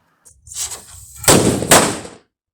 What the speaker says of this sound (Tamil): நம்ம வச்ச ரெண்டு வெடியுமே வெடிச்சிருச்சு